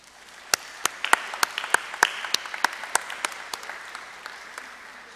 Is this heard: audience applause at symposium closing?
yes